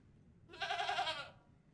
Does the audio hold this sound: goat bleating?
yes